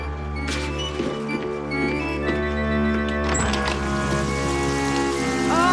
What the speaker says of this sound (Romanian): Nu știu, Lola, plouă destul de tare.